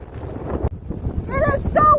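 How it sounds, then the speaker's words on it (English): Strong wind buffets the microphone during a walk outdoors in North Dakota, a steady low roar throughout while someone talks over it. "It is so windy."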